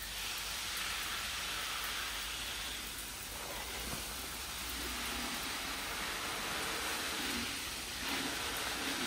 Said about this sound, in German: Ich gieße das mit einer Pumpe aus dem Regenfass.